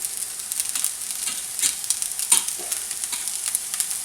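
Cooking oil with a dash of sesame oil sizzles in a pan, heard as a steady, fairly quiet crackle with scattered sharper pops. No one speaks over it.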